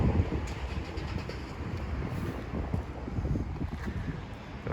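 Wind gusting across a rooftop by a parapet wall and chimney on an office building under construction, a steady low buffeting roar with rumbling microphone noise throughout.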